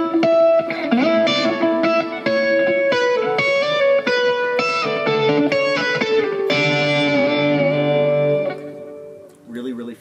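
Slowed-down arpeggiated electric guitar riff, individual picked notes ringing out one after another with a distorted, effected tone; loud and close, with a longer sustained chord near the end before it cuts off.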